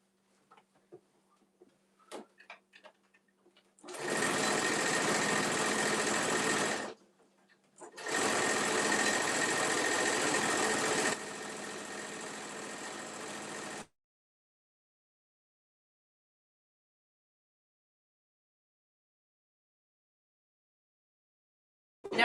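A sewing machine stitches a full-size top-handle tote bag in two long steady runs, loud and close, separated by a short pause, with the motor tone dropping near the end before silence.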